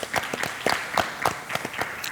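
Audience applause in a business talk setting, a burst of scattered hand claps from a modest group, fairly close, with uneven rhythm and no talking over it.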